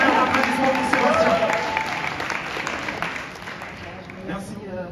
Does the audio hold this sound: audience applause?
yes